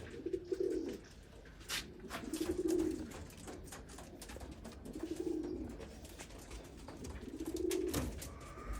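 At a breeder's loft, a male Tiger breed pigeon gives four soft, rolling coos spaced a couple of seconds apart, close by over faint background noise.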